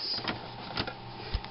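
An ice cream maker churns lilac ice cream with a steady mechanical whir, broken by a few brief clicks and knocks over the short stretch.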